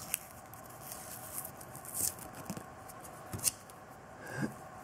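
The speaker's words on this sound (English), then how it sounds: "you can take the tape and pull it off" Tape is peeled off a small plastic tube fixed with cooled hot-melt glue, heard as faint, intermittent crackling and ticking pulls over quiet background, close to the microphone.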